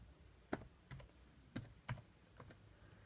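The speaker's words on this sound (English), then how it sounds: "we need to type in WinRAR" A handful of separate keystrokes on a computer keyboard sound as sharp, close clicks spaced irregularly, very quiet, with no voices.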